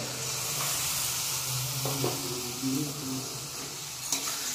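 A frying spice paste for a fish curry with olkopi hisses steadily in a pan, with a few brief pours and splashes of water and light stirring knocks over the sizzle.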